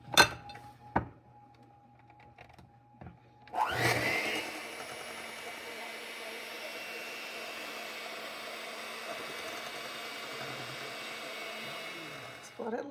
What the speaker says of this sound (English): I'm going to give that a swirl with the mixer now too